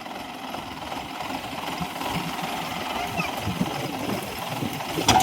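A tractor engine runs steadily on a pomegranate farm, a continuous low rumbling chug with a knocking texture, close and fairly loud throughout, with a brief rattle near the end.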